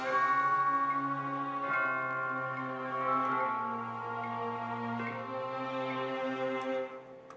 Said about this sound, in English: we add some chimes